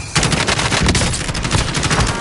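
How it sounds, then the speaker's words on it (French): Rapid automatic gunfire in a video game, a loud, dense burst of machine-gun shots rattling continuously for a couple of seconds, close and alone with no speech. "Il tire dessus."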